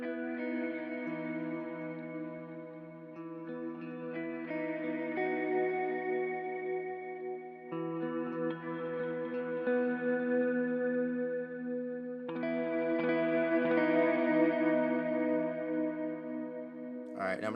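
Sustained electric guitar chords ring out drenched in heavy reverb, swelling and overlapping in long washes with a few chord changes.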